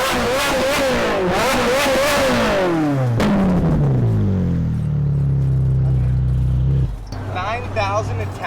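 A straight-piped Ferrari 458 revs in sharp, rising bursts, then winds down into a lower, fading engine drone. Voices break in briefly near the end.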